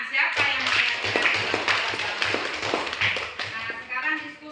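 Children in an Islamic studies class clapping together, uneven rhythmic claps and taps mixed with chatter and shuffling, close and fairly loud.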